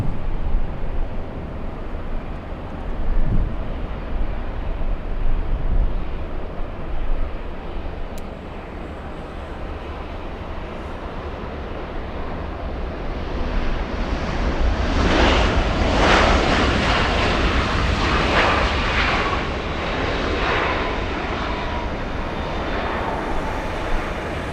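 A JetBlue airliner on the runway at LAX makes a long engine roar, rumbling at first and then building to a louder, harsher jet blast midway before easing somewhat.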